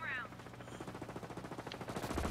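Rapid automatic gunfire rattles through a Ghost Recon Breakpoint firefight, a steady stream of sharp reports at moderate distance with a brief tonal whine at the start.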